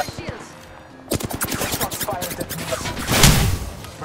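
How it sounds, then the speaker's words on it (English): Rapid bursts of enemy gunfire in the video game Apex Legends, a dense run of close shots building to a louder cluster near the end, with a player talking over it. "He's shooting at me."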